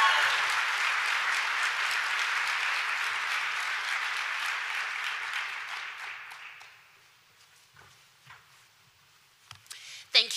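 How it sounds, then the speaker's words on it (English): Audience applause at a military airlift and tanker seminar: loud, dense clapping from a full room fades out after about seven seconds, leaving scattered claps and small handling noises in near quiet. "to the legends, a round of applause to welcome you"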